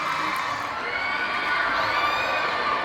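An audience at a college valedictory function claps and cheers loudly and continuously, a dense wall of applause with shouts and whoops.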